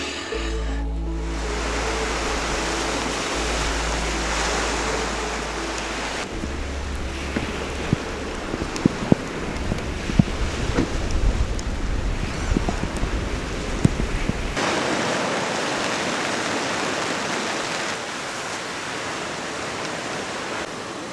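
Steady broadband rain pattering on a tent at a campsite during a storm, loud and continuous with occasional sharper drips and taps, no voices.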